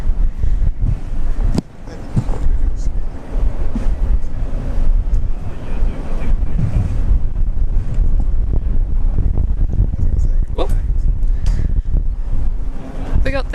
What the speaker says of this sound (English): Yes, very windy here.